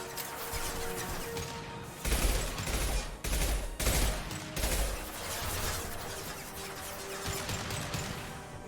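High-impact gunshot fire in Mass Effect 2, several heavy booming shots around the middle over a continuous din of combat noise and mechanical clatter.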